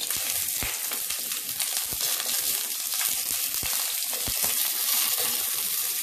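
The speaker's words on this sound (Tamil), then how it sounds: "தக்காளி நல்லா வதங்கட்டும்," Whole tomatoes sauté in hot oil, giving a continuous close sizzle and spatter with light stirring clicks, steady and loud throughout.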